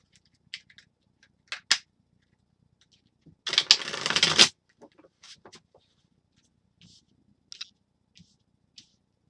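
A steampunk tarot card deck is shuffled in one brief, quick riffle burst at close range, with faint taps and card handling sounds around it in an otherwise quiet room.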